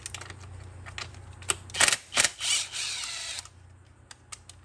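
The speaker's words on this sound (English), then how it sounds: "Now we're going to remove the three bolts that are holding the charge pipe." Ratchet tool clicks and mechanical clatter sound under the hood of a 2021-2022 Ford Bronco as the bolts holding the charge pipe come out. Two loud whirring bursts rise mid-clip, set against light tapping and a faint low hum.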